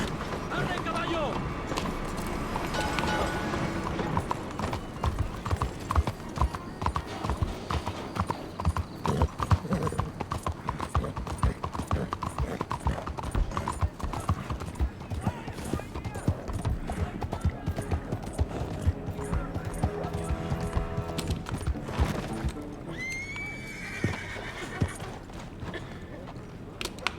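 A horse gallops in the Red Dead Redemption II video game, with rapid, steady hoofbeats throughout, under game music and voices, with a brief whinny-like sound near the end.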